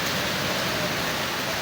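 Heavy rain pours beside a covered shed, a steady, dense, broadband hiss that holds evenly throughout without pause.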